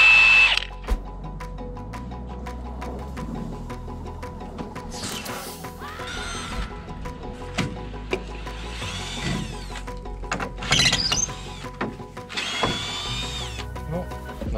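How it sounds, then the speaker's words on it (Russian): A cordless screwdriver drill whirs in several short whining bursts, near and fairly loud, while a veranda foundation is being built; voices and scattered clatter of work continue around it. "Нам нужен шуруповерт."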